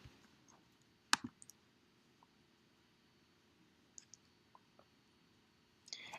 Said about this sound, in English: And if you click run